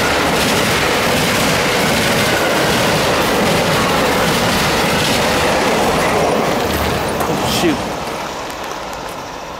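An Amtrak passenger train passes northbound at Collier on an August afternoon, a loud steady rumble of rolling cars with a clatter of wheels that slowly fades toward the end.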